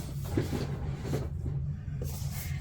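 A small plastic makeup storage drawer holding liquid blushes slides open or shut, a few soft close clicks and scrapes over low background hum, near and fairly quiet.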